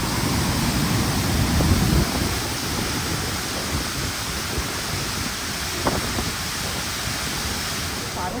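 Heavy monsoon rain falling at Siddheshwar Waterfall near Alibaug, a dense, constant roar of rain and rushing water, with a brief clatter partway through.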